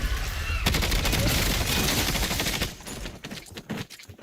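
Sustained gunfire from shooting at the ground in Call of Duty, a loud dense burst of rapid shots for about two seconds, then tapering into scattered fainter reports.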